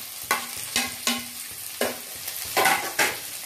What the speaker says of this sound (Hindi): ये प्याज भून गया, शिमला मिर्च ऐड करूंगी